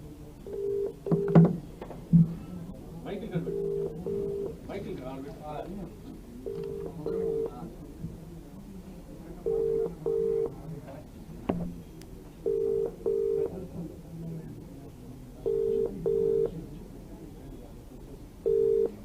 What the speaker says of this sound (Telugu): వాళ్ళందరూ వాడికి ఫోన్ చేస్తాను